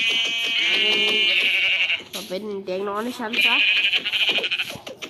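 Minecraft sheep bleat repeatedly in shaky, wavering cries, heard under and between a man's excited Thai speech.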